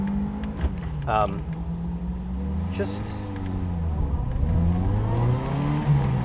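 A Honda S600 with a motorcycle engine swap revs up and down, its engine note sweeping in pitch and rising and falling through several cycles, with a short spoken word near the start.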